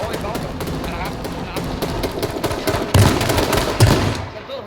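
Rapid bursts of video game gunfire crackle under tense talk between players, with repeated sharp shots and a couple of louder hits near the end.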